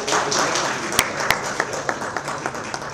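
An audience at a corporate event claps as a group CEO is invited to the stage: scattered, moderately loud claps with a few sharp individual slaps, thinning out over a few seconds.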